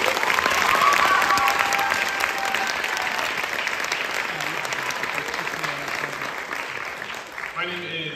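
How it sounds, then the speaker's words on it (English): Sustained audience applause for a high school jazz band at a spring concert, loud and steady throughout before tapering at the end, with a voice talking over it in the final moments. "Can we have one more round of applause for the Jazz Band?"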